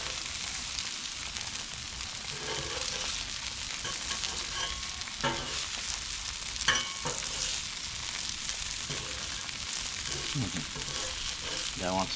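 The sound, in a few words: hash browns sizzling on Blackstone griddle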